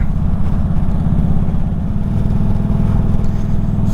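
A motorcycle's exhaust drones steadily while riding, picked up by a helmet-mounted motovlog microphone; a loud, continuous low rumble with pulsing firing beats and wind noise throughout, no talking.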